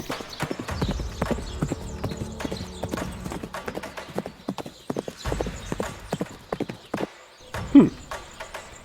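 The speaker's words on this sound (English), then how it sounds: "Some horse-mounted combat, let's go." Rapid clip-clop of horse hooves at a steady gallop in a video game, loud and close, with a brief whinny near the end.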